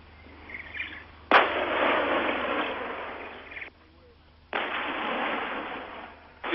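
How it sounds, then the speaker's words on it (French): Self-propelled 175 mm heavy artillery guns firing in south Lebanon in 1978: two sharp, loud blasts, each followed by several seconds of roaring, rumbling noise, with a short quieter gap between them. "Sous un véritable parapluie d'artillerie lourde autotractée de canons de 175"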